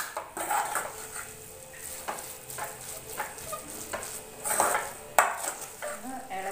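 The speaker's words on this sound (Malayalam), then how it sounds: "വഴറ്റി കൊടുക്കാം." Chili powder sautéing in a pan for tomato curry: soft sizzling under repeated scraping and clinking stirs of a utensil against the pan, close and moderately quiet.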